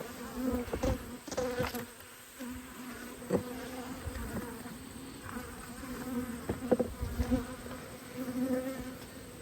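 Honeybees buzz around an open black beehive, a dense, steady close-up hum with individual bees droning past the listener and faint handling knocks.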